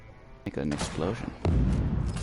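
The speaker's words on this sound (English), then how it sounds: "Make an explosion." In Genshin Impact, a few blasts and thumps burst out in quick succession, the loudest near the end, with a voice speaking over them.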